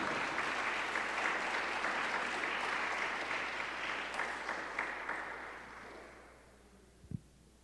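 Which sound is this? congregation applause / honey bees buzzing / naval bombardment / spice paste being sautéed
congregation applause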